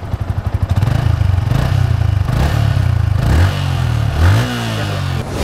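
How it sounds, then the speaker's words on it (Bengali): A Yamaha R15 V2 motorcycle, about eleven years old, idles with a loud, close, pulsing exhaust note. It revs up a few times, then settles back to a steady throb. "এটা একবার এক্সজস্ট নোটটা একবার যদি একবার একটু শোনাও, জাস্ট বাইকটা সাউন্ডটা শোনো"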